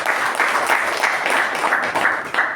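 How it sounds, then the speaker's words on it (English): Audience applause at a Toastmasters club meeting: steady, dense clapping from a room of people, sustained without a break for the whole stretch at fairly strong level. "give him a huge round of applause"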